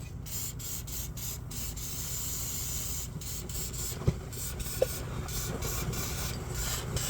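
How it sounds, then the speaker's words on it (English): Long continuous hiss of aerosol lubricant sprayed while repairing an air compressor, with a few brief pauses and a couple of small clicks partway through. "make sure you spray first lubricant here. Some lubricant, I'm gonna spray it first and leave it."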